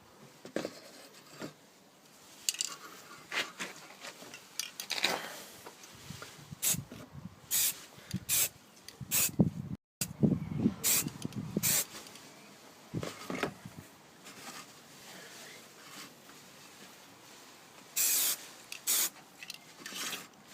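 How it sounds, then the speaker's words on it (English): Short bursts of spray paint hiss over a Tamiya Challenger 1 Mk3 tank model kit, held about six inches away, in repeated quick puffs with rubbing and handling noises between them. "Just a quick spray, not too close, just about 4 to 6 inches, well, about 6 inches away."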